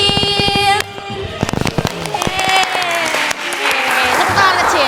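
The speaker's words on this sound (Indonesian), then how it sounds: "Tepuk tangan kecil, oke." A small group gives a short burst of clapping, mixed with sharp crackling hits and a bright musical jingle underneath.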